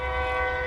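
A train rolls through a small town near a Sparta baseball field, a steady loud drone with sustained horn-like tones held throughout the short stretch, no voices over it.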